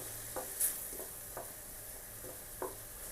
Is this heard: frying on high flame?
yes